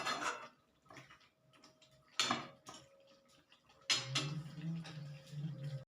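Cooked hariyali chicken tipped from a pan into a bowl, with scattered clinks and taps of dishes and a spoon, a couple of louder scrapes, and a soft sliding pour near the end, heard close with no talking.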